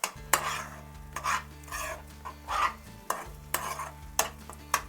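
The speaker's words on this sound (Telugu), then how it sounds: "ఇది వేసి కలుపుకోవాలి మనం. ఈ పేస్ట్ కొంచెం ఉడకాలన్నమాట." A spoon scrapes and stirs ground masala paste in a pan in repeated strokes over a low steady hum and faint sizzle.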